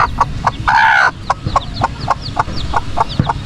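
Chickens clucking in a steady series of short, evenly spaced calls, close and fairly loud, with one longer squawk near the start over a busy low background.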